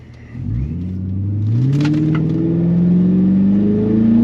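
A Ford 4.6 two-valve V8 car pulls away from drive on a stock intake test, its engine note rising steadily in pitch as it accelerates, loud and close throughout.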